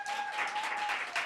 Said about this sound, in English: Keep the applause coming all the way up.